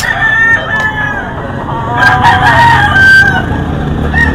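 A Kelso gamefowl rooster crows loudly and close, a drawn-out cock-a-doodle-doo with harsh overtones, alongside softer clucks and faint background farm noise.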